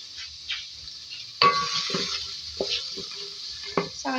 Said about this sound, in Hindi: अनियन प्याज चॉप 2 मीडियम साइज की, इसको भी फ्राई करेंगे।